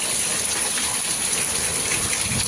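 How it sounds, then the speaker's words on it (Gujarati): Heavy rain falls in Jamnagar, a dense, steady rushing roar of water that holds evenly for the whole stretch with no voices over it. "અમારે જામનગરમાં વરસાદ આવી ગયો"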